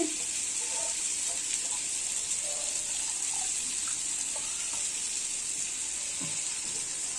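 Tamarind soaked and dissolved in water is poured into sambar in a home kitchen, making a steady, even liquid rush with a faint sizzle beneath, close by and continuous throughout.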